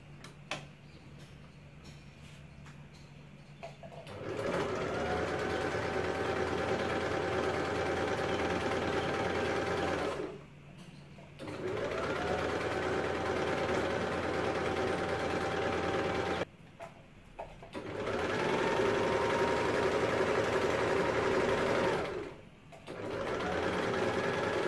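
A sewing machine fitted with a picot presser foot stitches a picot hemline along a crop-top sleeve, humming steadily in three long runs broken by short pauses.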